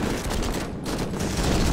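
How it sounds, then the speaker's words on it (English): Dense, continuous gunfire crackles in the action video game MADNESS: Project Nexus, a loud unbroken fusillade of overlapping shots with no pause. "That is a lot of gunshots."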